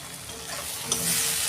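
Spice masala frying in hot oil for a Bengali pomfret fish curry, a brief close sizzle with a stirring scrape and a slight swell near the end, no talking.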